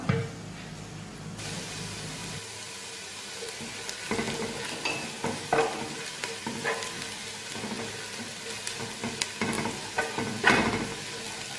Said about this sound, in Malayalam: സവാള ഉള്ളിയൊക്കെ ഏകദേശം വഴഞ്ഞിട്ടുണ്ട്